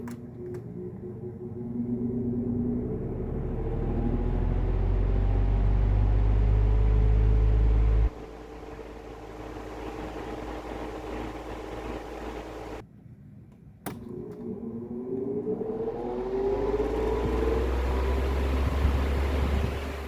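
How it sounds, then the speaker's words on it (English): A Lasko 16-inch oscillating desk fan running down, its low motor hum and whoosh sliding downward in pitch, cutting off, then rising again as it restarts; steady and close. "Wait for this to spin down, we'll do medium and high."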